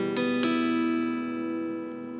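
A guitar chord with the fifth and fourth strings fretted and the rest open, strummed twice near the start and left to ring out and slowly fade, close and clear.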